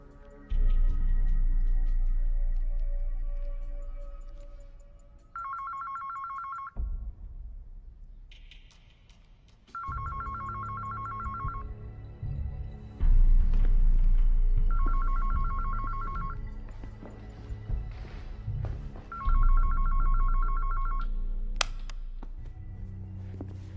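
Telephone ringing as a call is placed, repeated bursts of a trilling electronic ring separated by gaps, loud and close over a low rumbling background.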